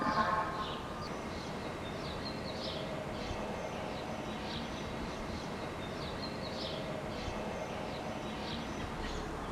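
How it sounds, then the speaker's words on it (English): Birds chirp and sing outdoors from a rooftop, repeated short calls scattered through the clip at moderate distance over a steady background noise floor. "I hope you guys are enjoying all these bird sounds."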